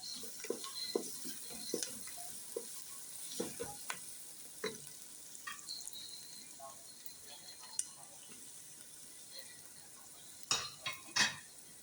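Onion sizzling in hot oil in a pot while cooking macaroni: a steady crackling fry with scattered pops and occasional light clinks of a utensil against the pot, close and fairly quiet.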